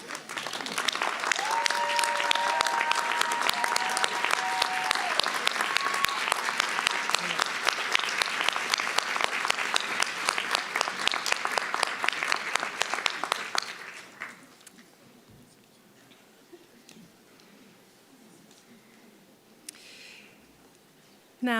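A large graduation audience at an Emory Physician Assistant ceremony applauds with dense, sustained clapping for about fourteen seconds, then it fades quickly into quiet room tone with faint murmurs.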